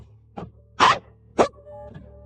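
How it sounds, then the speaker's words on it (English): Dog barking in a backyard: two or three sharp barks at moderate distance over a low steady background hum, with short pauses between them. "the dog in the backyard is barking right now."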